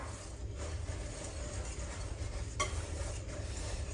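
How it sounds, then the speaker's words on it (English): Dry ingredients for oatmeal cookies, including oats, are whisked in a bowl. The stirring is steady and continuous, with a faint scraping texture and one brief sharper clatter near the middle. "Whisk, whisk, whisk, whisk, whisk, whisk."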